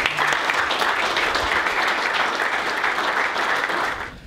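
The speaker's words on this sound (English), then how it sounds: "Massive round of applause." Dense group applause fills the room for a newly chosen football team captain at Derby, steady and loud for about four seconds before tapering off at the end.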